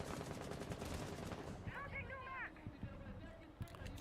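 Rapid bursts of video game gunfire as Nomad shoots through a wall, repeated sharp shots over steady background noise, with a brief whistling tone in the middle.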